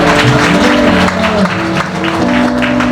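Wedding guests clap for the couple, a loud continuous patter of applause laid over sustained tonal music playing in the background.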